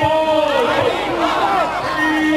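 A protest crowd at the Dona Paula junction in Goa shouts and chants together, a loud, continuous mass of raised voices held back by police.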